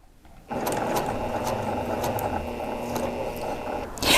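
A sewing machine runs steadily while stitching quilt pieces for a vintage quilt block, a close, continuous mechanical whir with fast rhythmic needle clatter after a brief start.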